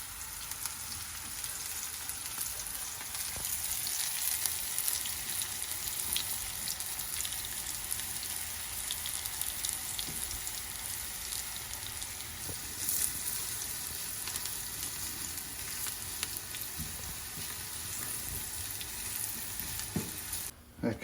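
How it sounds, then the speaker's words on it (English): Onion rings sizzle steadily in hot oil, a dense, even crackle that runs for the whole stretch at moderate volume, with no talking over it. "So as soon as that oil gets hot, we want it to be hot because we want to crisp the onion rings."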